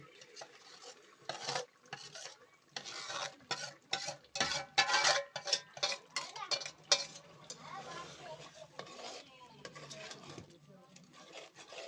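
Ground masala paste for a crab curry frying in a pot over a wood-fired stove, with rapid irregular scraping and stirring clatters over a soft sizzle, loud and close, with brief voices in between.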